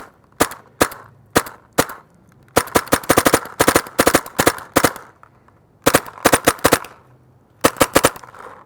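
Paintball marker fitted with a clear view Cyclone feed house and bottom plate firing shots in bursts, sharp loud cracks in irregular clusters with short pauses between strings, heard close and alone.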